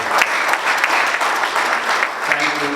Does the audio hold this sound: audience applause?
yes